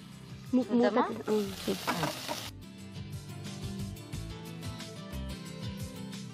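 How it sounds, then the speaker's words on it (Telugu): Mushrooms fry in a pan with a soft, steady sizzle that continues throughout, while a person speaks over it near the start. "మష్రూమ్ బాగా వేగిపోయింది"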